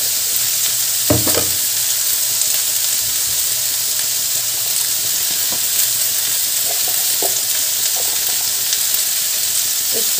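River fish seasoned with salt and turmeric fries in hot oil, a loud, unbroken sizzling hiss throughout, with a few soft knocks and scrapes from stirring close up.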